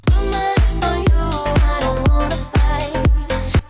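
Punchy Avenger synths and heavy basses from an electronic track pulse in a steady rhythm, with about seven loud stabs each followed by a quick decay, alone without voices.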